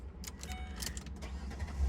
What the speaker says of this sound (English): let me go ahead and turn the truck back on